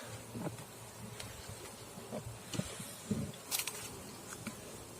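Soft buzzing of honeybees at a hive hums low through the clip, with scattered faint knocks and rustles; no talking.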